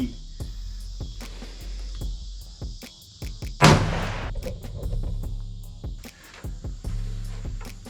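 A .338-06 rifle firing an SST bullet over a chronograph outdoors, one loud sharp report partway through, over a steady background of insects.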